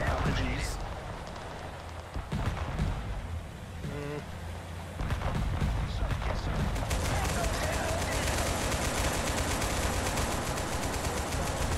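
Rapid bursts of automatic gunfire from a first-person shooter game, dense and continuous across the whole stretch, growing louder and more sustained in the second half with occasional heavier blasts.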